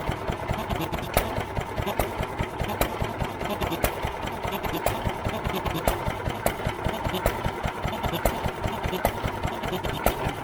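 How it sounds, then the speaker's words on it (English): A New Idea Vari Speed engine runs unloaded, firing erratically with irregular sharp pops over a steady low mechanical chug, heard close and alone. "Fires erratically like that until you get a load on it"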